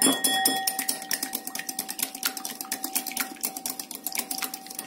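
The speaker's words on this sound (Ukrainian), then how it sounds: "Збиваємо яйце." An egg is beaten by hand with a whisk in a bowl, a fast and steady series of light metallic clicks and taps that runs throughout with no talking.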